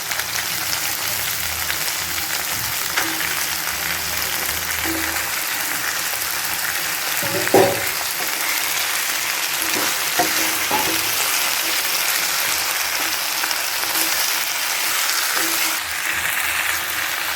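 Half a kilo of chicken sizzles and fries in a pan with softened onion and tomato for a chicken gravy. The crackle is steady and close, with a few sharper pops and stirring clatters.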